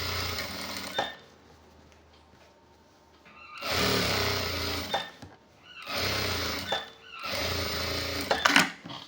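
A sewing machine stitches the seam of a half-sleeve, three-button shirt, running in three loud, sustained bursts separated by quieter pauses with faint handling noise.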